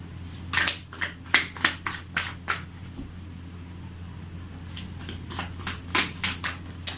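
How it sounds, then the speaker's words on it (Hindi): Tarot cards are shuffled close up in two quick bursts of crisp riffling flutters, with a quiet pause between them. "गाइस, जब तक मैं कार्ड शफल कर रही हूँ आप अपने पार्टनर के बारे में सोचें"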